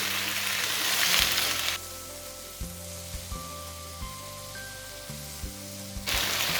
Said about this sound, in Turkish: patatesimizi direkt ilave ediyoruz